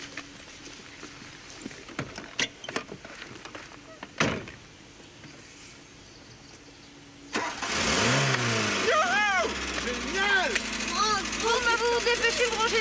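A car engine cranks and catches after a quiet stretch with a few knocks, then settles into a loud running rumble with rising revs, close by.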